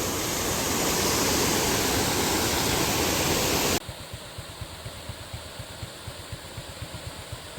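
A stream near Karadippara in Pathanamthitta rushes loudly in a dense, steady roar for about half the time, then cuts abruptly to a quieter scene with a steady, rhythmic low thumping.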